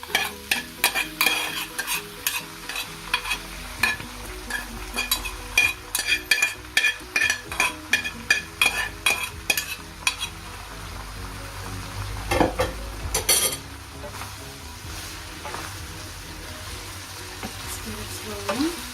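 Rice is stirred into frying chicken in a pot, with a quick series of rhythmic scraping strokes over a steady sizzle, then slower stirs and a sharp clatter as the frying carries on.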